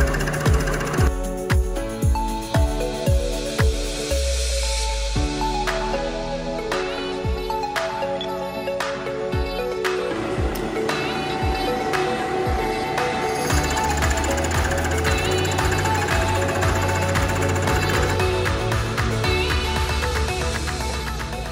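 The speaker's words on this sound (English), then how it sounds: "here I'm using a boring head to cut an internal radius" Boring head cutting an internal radius on a metal part in a machine shop, a steady loud rhythmic pounding machine drone with repeated sharp knocks and metallic ringing that runs the whole way through.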